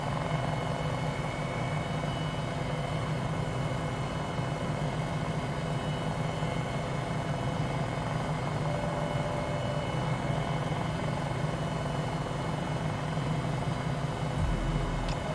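MD 500E helicopter hover taxiing, a loud constant turbine whine and rotor thrum held steady and close throughout, with no talk.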